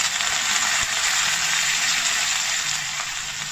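Fennel, garlic and curry leaves sizzle in hot oil in a home kitchen in Singapore, a steady loud hiss close by that holds level throughout with no talk over it.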